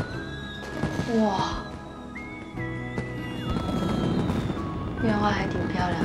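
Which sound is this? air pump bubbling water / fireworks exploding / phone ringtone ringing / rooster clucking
fireworks exploding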